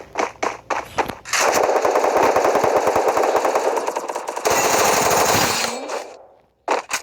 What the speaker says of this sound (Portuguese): Agora vai tomar só rajada de Thompson e 12 nova.